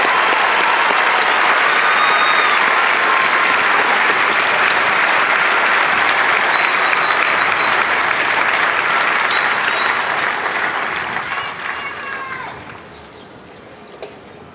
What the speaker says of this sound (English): how about another round of applause for these exceptional airmen?